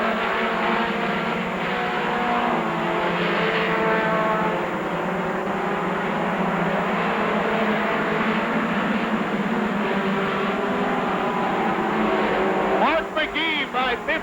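Race cars roar around the Rockford Speedway oval in a 1991 event, a sustained loud engine drone with cars passing, under an announcer's commentary, ending with a brief higher whine.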